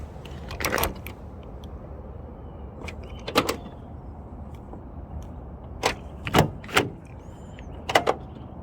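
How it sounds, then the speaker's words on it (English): Repeated sharp clunks and rattles come from someone tugging at the doors of a Ford Transit Mk7 van whose key fob has failed, spaced irregularly with quiet pauses between, close by. "Can't even open the friggin' doors to get inside."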